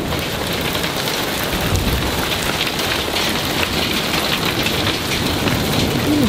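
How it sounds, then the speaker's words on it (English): Heavy rain pours steadily during a severe thunderstorm, a dense continuous hiss of drops close by, with no voices. "Listen to that rain coming down."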